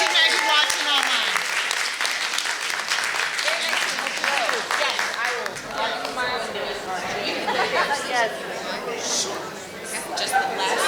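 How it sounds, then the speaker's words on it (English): A room full of people at an annual meeting claps steadily for several seconds, a dense patter of applause mixed with chatter and a few voices. "Let's applaud for Jean"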